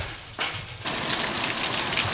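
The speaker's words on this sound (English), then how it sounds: "The mist from the waterfall is raining down." Fine spray of mist from a Swiss alpine waterfall comes down like steady, close rain, a dense hiss that swells in two quick steps and then holds without a break.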